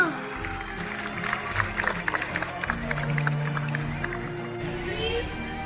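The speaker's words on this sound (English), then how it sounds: "Please give a huge round of applause for our director" Audience at a school air show clapping steadily, with scattered crowd noise and children's voices, moderately loud and close, while a voice speaks over it.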